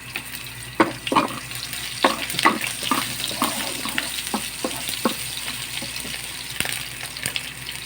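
Garlic and onion fry in a pan with a steady sizzle, while scattered clinks and scrapes of a utensil stirring sound close by; no voices.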